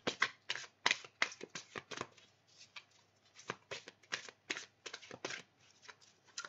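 Playing cards being shuffled and handled, a rapid series of crisp riffling flicks and snaps close up, with brief pauses and no talking.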